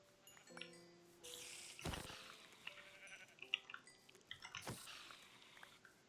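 Sheep bleat in a modded Minecraft farm, several short harmonic cries scattered across the scene, with a few clicks and drip-like blips in between and no talking.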